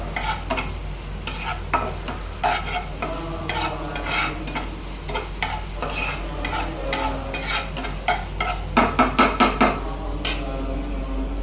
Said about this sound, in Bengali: ডালটা বাগার দিয়ে নেই